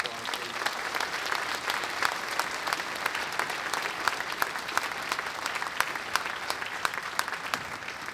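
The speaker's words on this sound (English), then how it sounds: "let's give all of those people a round of applause, please" A crowd at a university marching band concert applauds for the student announcers, sustained, even clapping across the room with a faint murmur of voices beneath.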